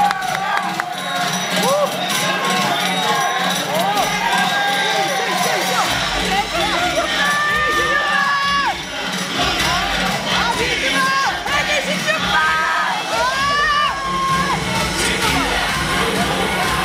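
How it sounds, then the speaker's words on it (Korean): A crowd at a bodybuilding contest cheers, whoops and shouts loudly and continuously, while an announcer's amplified voice talks over the noise. "자 우리 선수에게 뜨거운 박수 부탁드립니다."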